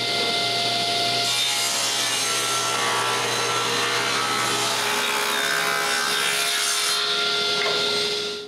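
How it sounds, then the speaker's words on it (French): A saw rips steadily through a piece of wood, splitting it in two for several seconds, a loud continuous rasping cut with no pauses. "Je refends donc le bout de bois en 2."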